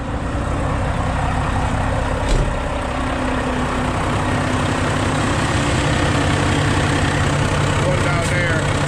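A boat engine that needed long cranking before it started now idles steadily, a loud, close, continuous low rumble with a constant drone and little change.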